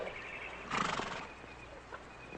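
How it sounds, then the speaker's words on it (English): A horse whinnies in a single bright, fairly loud burst, then fades into quiet ambient background with faint movement. "Beautiful horse."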